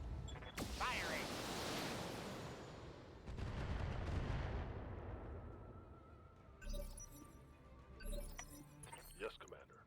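Weapon fire in the BattleTech video game, set in 3062: a heavy blast roars out, followed by rumbling, crackling debris and metallic clatter that fade away.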